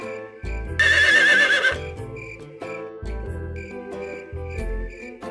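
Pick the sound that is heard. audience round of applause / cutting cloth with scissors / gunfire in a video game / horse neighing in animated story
horse neighing in animated story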